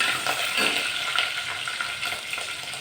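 Slit green chillies sizzle and crackle steadily in hot oil for pulihora, a continuous close frying hiss with small pops, no voices.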